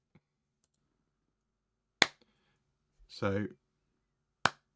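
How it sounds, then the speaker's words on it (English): Recorded hand claps and clicks played back in a Logic session, with a few sharp isolated claps separated by silence and a brief spoken word between them. "claps at different levels and then some clicks as well, which haven't come through brilliantly"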